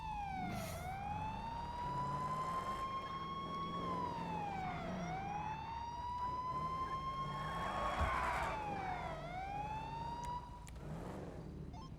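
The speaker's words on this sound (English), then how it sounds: "You see the lights, you hear the sirens, don't you?" A police car siren in a video game wails up and down in slow, steady sweeps, loud and continuous over a faint engine rumble, with no talk.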